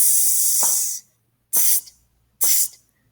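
A voice imitates a sizzle, counting along in a music lesson on half notes: a long hissing burst held about two beats, then two shorter sizzles after gaps of silence, close and clear.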